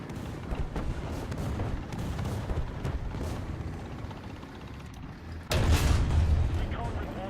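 Artillery fire in the War Thunder tank game: a heavy boom lands near the end over a continuous rumble of battle noise, with a player's voice talking during the clip.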